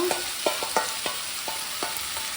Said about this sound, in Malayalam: ഞാൻ അതിലേക്ക് ഇതും കൂടി നമ്മുടെ പ്രോൺസിനെ അങ്ങോട്ട് ഒഴുക്കിയിടുകയാണ്